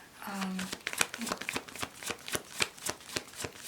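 Tarot cards are shuffled up close in a rapid run of crisp riffling flutters and slaps, with a voice briefly audible at the start.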